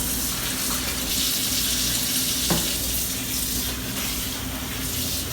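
Warm water pours steadily from a tap into a sink for washing freshly dyed fabric at home, a close, even rushing hiss with one brief knock midway and no talking.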